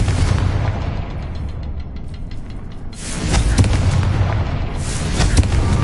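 A Confringo spell explodes in Hogwarts Legacy with a loud booming blast that swells into a sustained crackling roar, over a lower rumbling game backdrop.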